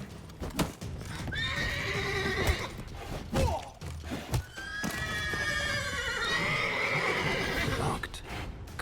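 A horse in The Witcher 3 whinnies and neighs repeatedly over clip-clopping hooves, with loud, close calls rising and falling against a busy game soundscape.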